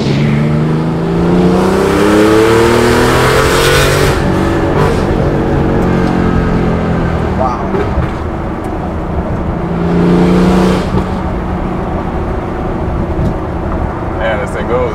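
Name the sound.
RWB Porsche 993 engine accelerating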